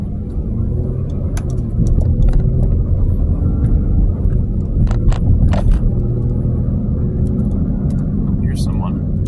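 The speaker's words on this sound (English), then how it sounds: "This truck go by." A truck rumbles past on a road during storm chasing in Wisconsin, a steady loud low engine and tire roar over about nine seconds, with people talking over it and occasional clicks and knocks inside the vehicle.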